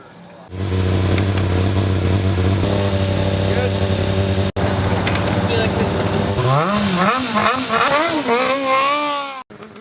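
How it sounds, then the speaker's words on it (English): Student-built race car on test day, a steady engine drone that rises into rapid, wavering revs as it accelerates and corners, loud and close, cutting off briefly midway. "The car handles very well through corners and acceleration and braking."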